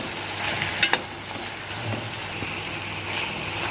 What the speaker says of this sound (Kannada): ಕರಿಬೇವಿನ ಎಲೆಗಳನ್ನು ಸಹ ಇದ್ರ ಜೊತೆ ಹಾಕಿಬಿಟ್ಟು ಚೆನ್ನಾಗಿ ಫ್ರೈ ಮಾಡ್ಕೋತಾ ಇದೆ